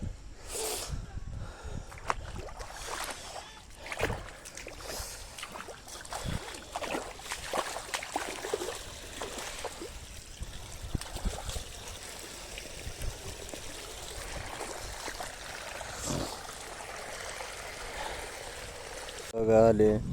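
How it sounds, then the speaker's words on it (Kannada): Water runs steadily into a rice paddy field for irrigation, a constant rushing flow with occasional splashy bumps, and a voice is faintly heard at times. "ನಾನಿಲ್ಲಿ ಹಾಗೆ ಗದ್ದೆ ನೀರು ಹಾಯಿಸ್ತಾ ಇದ್ದೀನಿ"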